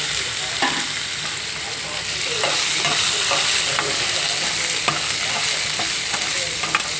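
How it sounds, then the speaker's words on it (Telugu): Ginger with dried red and green chillies frying in hot oil for raw mango pulihora, a loud, bright, steady sizzle close to the pan, dotted with small pops and light stirring clicks, with no speech. "ఇది కూడా వేగిపోయండి ఎర్రగా. అల్లం వేసుకుందాం. అలాగే ఎండుమిర్చి, పచ్చిమిర్చి,"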